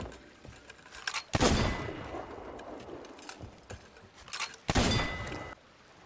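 Two loud sniper rifle shots ring out in Sea of Thieves, each a sharp blast with a lingering rumbling tail, set apart by a few seconds among quieter clicks and handling noise.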